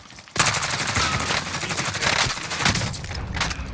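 Sustained automatic gunfire in Call of Duty: Modern Warfare, loud and close. Rapid shots rattle almost without pause from the opening moment and layer into overlapping bursts throughout.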